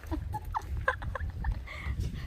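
Chickens clucking in a farmyard at the Fortress of Louisbourg historic site in Cape Breton, Nova Scotia: scattered soft clucks and short calls at a moderate distance over low outdoor rumble, with faint voices in the background.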